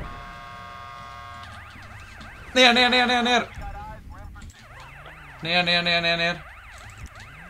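A police car siren wails in the video game GTA with a steady up-and-down rise and fall, broken twice by loud, harsh horn-like blasts. A voice speaks briefly.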